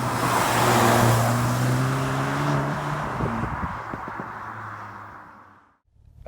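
A VW Golf GTI with DCC adaptive suspension drives on a road, its engine hum and tyre roar steady and close, then fading to near silence before a brief sound returns at the end.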